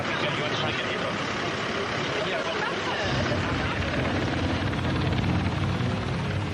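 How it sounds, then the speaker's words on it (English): Rescue helicopters arrive along the Cornwall coast, their rotors making a steady throbbing roar that deepens and grows heavier partway through, with faint babble of voices mixed in. "By now, rescue helicopters are arriving from bases all over the south of England."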